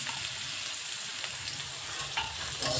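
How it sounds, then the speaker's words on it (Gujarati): Ginger, chili and garlic sizzle and fry in hot oil, a steady close crackle with occasional stirring scrapes, and no voices over it. "હવે આપણા બોલ્સ આદુ મરચાં અને લસણ નાખી દઈશું તેલના અંદર"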